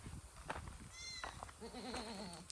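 A baby goat bleats several times on a farm, close and wavering, after a fence was torn down and the mother goats got out; one higher cry, then a longer shaky call over outdoor background noise.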